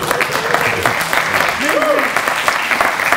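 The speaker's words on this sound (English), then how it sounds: "So remember this applause that you just did." Conference attendees in a hall applaud a speaker at an open source tech talk, a dense, steady wash of clapping from many hands, loud and sustained, with a voice speaking faintly underneath.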